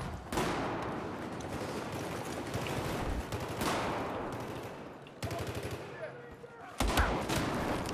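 Gunfire in Battlefield 4 combat, including shotgun blasts: repeated loud bursts and sharp shots over about eight seconds, separated by brief lulls, with no talk.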